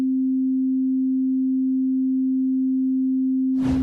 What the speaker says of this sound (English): This is what a typical sine wave sounds like right now.